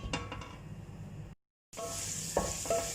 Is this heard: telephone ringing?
no